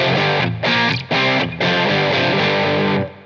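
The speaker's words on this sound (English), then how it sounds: "This is the Robert Keeley sound." Electric guitar played through a Keeley blues driver overdrive pedal on its Robert Keeley setting, giving a barkier crunch: three quick driven chord hits then a held overdriven chord ringing out before cutting off, loud and close.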